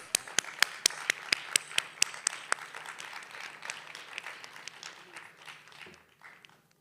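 Applause from the audience at an English teachers' conference opening ceremony, starting with a few sharp, distinct claps that thicken into steady clapping and then taper off.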